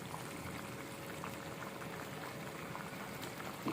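Chicken with spinach bubbling and simmering in a pot as its liquid cooks down, a steady, continuous wet sizzle and burble throughout with no talk.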